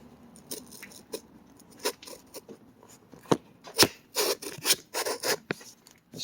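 Gritty sandblast sand scrapes and rattles inside a wooden container in irregular bursts, sparse at first and then denser and louder, heard up close with no talking.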